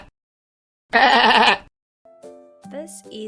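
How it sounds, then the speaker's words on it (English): A sheep gives one loud, wavering bleat at close range, followed by a speaking voice. "This is a sheep."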